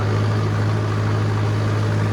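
A 4x4 tractor engine runs steadily in a field, a continuous low idling drone with a strong hum, close and unbroken throughout with no voices.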